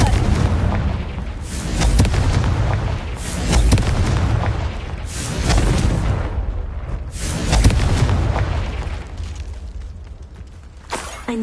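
Repeated Confringo fire-spell explosions from the game Hogwarts Legacy, a series of loud booming blasts roughly every one and a half seconds, dense and close with no talking over them.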